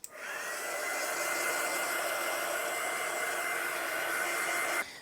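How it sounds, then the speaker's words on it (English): Heat tool blowing over paint on a gel printing plate, a steady, loud whooshing fan drone that switches on, holds evenly for several seconds and cuts off, close with no voices. "we have to go over carefully with our heat tool"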